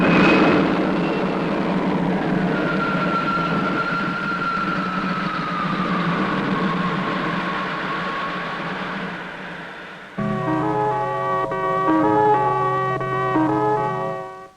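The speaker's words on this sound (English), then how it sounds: "Ready to lift. Takeoff program starting now." A spaceship takeoff effect from a 1963 science-fiction series: a loud, steady electronic roar with a slowly gliding tone that switches abruptly into pulsing, stepped electronic tones before cutting off.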